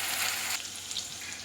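Onions, green chillies and curry leaves sizzling in a hot oiled pan for Tamil tomato kulambu, a bright crackling fry that is loudest at first then settles to a softer steady hiss.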